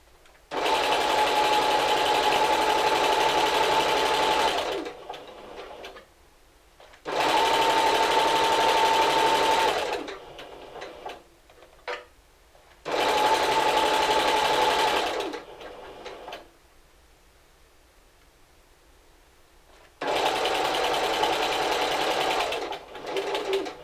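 A home sewing machine, used on a Simplicity 1562 robe pattern, stitches along the edge of a fold in four loud, steady runs of several seconds each. Brief pauses and light handling noises fall between the runs.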